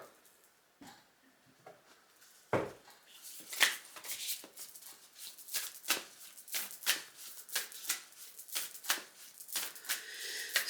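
Tarot and oracle cards are shuffled by hand, starting with a few soft taps and slides, then building into rapid, close riffling bursts that repeat in quick succession; no one speaks.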